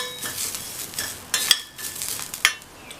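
A spoon stirs poppy seeds and grated coconut being lightly roasted in a pan on a turned-off stove. Close, soft scraping and rustling come with a few sharp metallic taps against the pan.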